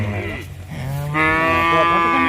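A native cow moos loudly and close, one long drawn-out bellow that rises in pitch partway through, with no other sound around it.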